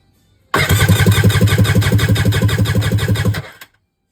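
Stand-up jet ski engine cranking over on the starter for about three seconds during a compression test on the front cylinder, a loud, steady rhythmic chugging that then cuts off.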